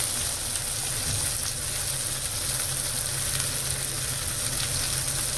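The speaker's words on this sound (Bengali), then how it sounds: "মশলাটাকে ভালো করে ভেজে নেওয়া একটু" Spice paste of turmeric, chilli, coriander and cumin powders sizzles steadily in a pan for a rupchand fish curry, a close, continuous frying hiss at even loudness with no talk.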